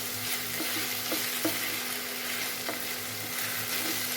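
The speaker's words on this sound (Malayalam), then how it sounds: "സവോള കുറച്ചുകൂടി വഴന്ന് വരാനുണ്ട് നമുക്ക് നന്നായിട്ട് ഇളക്കി കൊടുക്കാം" Onions sauté in a pan for a clam meat dish while a spoon stirs them, a steady close sizzle broken by a few light scrapes and taps against the pan, with a faint low hum underneath and no talk.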